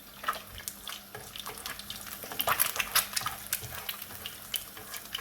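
Chicken for Pad Kaprao Gai frying in a pan, spitting and crackling with irregular sharp pops over a soft hiss, close and fairly quiet, with no voices.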